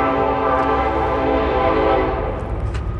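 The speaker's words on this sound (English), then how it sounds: "We're gonna let that train go by." A train rolls past close by on the rails, its horn sounding as a steady loud blare over the rumbling of the cars for several seconds before easing slightly.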